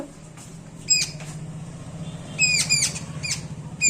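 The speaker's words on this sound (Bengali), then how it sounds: "এখান থেকে কিন্তু খুব পাখির ডাক শোনা যায়" A bird calls outside a window in a few short bursts of high, bright chirps, moderately faint over a low steady hum, with no talking.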